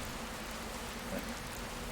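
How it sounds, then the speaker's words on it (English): Rain falls in the video game Dragon Quest Builders 2 as a soft, steady patter with no music behind it, faint and continuous. "this game doesn't have any music right now because it's raining"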